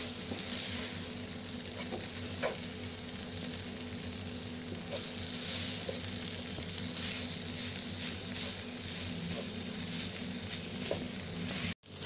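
Chicken kheema with tomato sautés on a high flame, giving a continuous sizzling hiss with occasional scraping ticks of a spatula.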